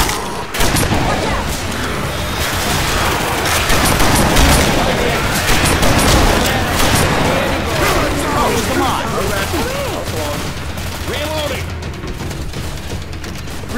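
Grenade launcher fire and heavy gunfire fill a Left 4 Dead 2 battle, a loud, dense barrage of booms and shots over the game's chaotic noise, with voices shouting underneath.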